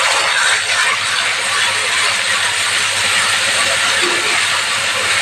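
Ground masala paste sizzles and spatters in hot oil over fried potatoes, a loud, continuous hiss close by with a steady texture throughout.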